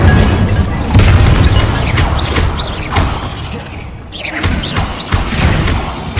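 A fire spell cast in the Hogwarts Legacy video game inside a tomb, with booming whooshes and thuds over a constant dense game ambience, several bursts spread through the clip.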